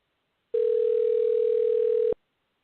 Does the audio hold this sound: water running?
no